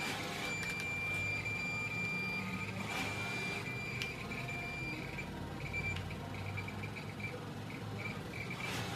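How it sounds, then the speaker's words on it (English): A high electronic beep from a Craftsman LTS1500 lawn tractor's shorted key switch sounds in a repeating pattern, cutting in and out as the key is wiggled, over a low engine rumble and faint insect-like background hiss. "Can you hear that beep?"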